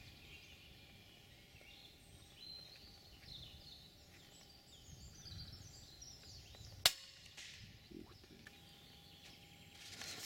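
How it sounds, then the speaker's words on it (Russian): A single sharp crack of an Edgun Matador R3M air rifle shot cuts through quiet outdoor ambience at a range, with faint background murmur before and after. "первый выстрел сейчас у нас будет пробный"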